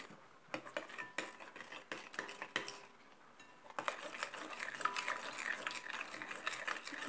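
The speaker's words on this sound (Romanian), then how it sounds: "Amestecăm bine." A spoon or whisk stirring Philadelphia cream cheese and cream together in a bowl, steady close clicking and scraping against the sides that speeds up into rapid rhythmic beating, fairly quiet, no voices.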